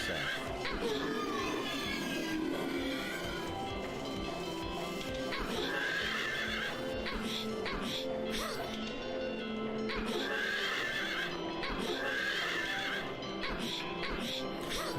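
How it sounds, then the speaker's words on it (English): Demon horse in a video game, heard as loud repeated neighs and whinnies with clip-clopping hooves and dense game sound throughout, while a person talks over it. "demon horse is on the carousel"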